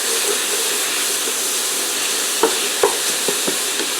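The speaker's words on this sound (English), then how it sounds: "I'm going to finish cooking up the sausage" Sausage and chopped mushroom stems fry in a pan with a steady close sizzle and hiss, broken by a few sharp clicks and scrapes of a spoon stirring near the end.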